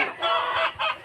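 Fighting cocks bred for derby matches on a gamefowl farm give short, loud clucks and squawks close by, in two quick bursts with a brief gap between.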